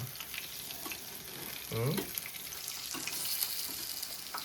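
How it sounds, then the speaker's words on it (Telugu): Bajji fritters frying in a kadai of oil, with a continuous close sizzle and brief rises in bubbling, plus a short low voice sound partway through. "బజ్జీలు వండుతున్నావా"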